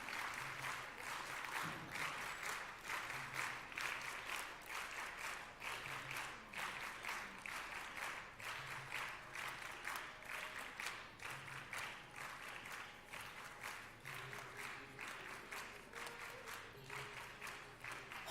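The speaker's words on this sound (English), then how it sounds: "Can we have a proper round of applause for the students?" Sustained applause for students at a school investiture ceremony; many hands clapping in a steady, dense roar that stays even for a long stretch, recorded very faintly and with no talking over it.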